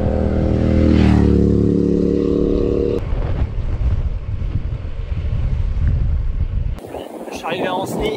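A strong northeast headwind buffets a cyclist on an ultra-distance ride in western France, a loud, roaring rumble against the microphone with a droning hum early on and a shift in tone near the end.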